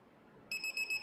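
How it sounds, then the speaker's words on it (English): A Steelmate car security device gives a bright electronic beeping alarm, starting abruptly after a moment of quiet and pulsing in short repeated tones, close and fairly clear. "It also beep beep beep in this case."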